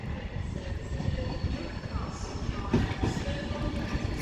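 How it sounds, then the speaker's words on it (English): Avanti West Coast Class 390 Pendolino 390.002 at Crewe on the West Coast Main Line, forming a London Euston to Liverpool Lime Street service, rumbles steadily with faint rail clatter. "This is forming the 1408 Avanti West Coast service to Liverpool Lime Street"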